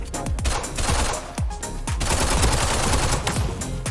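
Rapid gunfire from the video game Krunker rings out in a free-for-all match, with sharp, close shots firing in quick bursts and short pauses between them, loud and with no talk over it.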